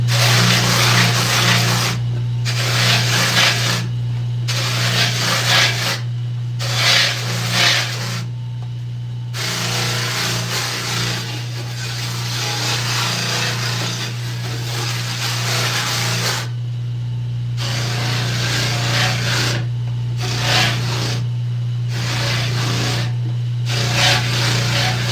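An orbital sander works over wooden skateboard decks, a constant motor hum under bursts of gritty rasping that start and stop repeatedly as the pad is lifted and pressed back down.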